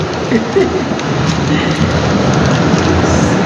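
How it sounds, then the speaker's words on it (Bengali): Water pours down heavily from above out of an overflowing tank, a loud, continuous splashing rush with no break until it stops abruptly. "এই যে উপর থেকে জল পড়ছে, ওই জলের আওয়াজটাই আসছে"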